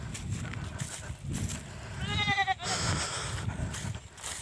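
Goats bleat in a wavering call while being herded to pasture on a farm, one clear bleat standing out over steady outdoor rumble and background voices.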